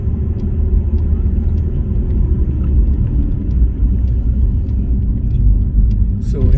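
A car drives along a Las Vegas road, its engine and tyre rumble steady and loud from inside the cabin, with a brief rise in noise near the end.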